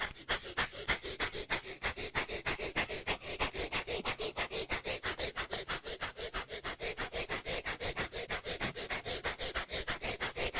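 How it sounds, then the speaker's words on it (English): Breath of fire, the rapid, forceful yoga breathing, as a steady stream of quick, sharp nasal exhales repeating about five times a second, close and continuous throughout. "breath of fire."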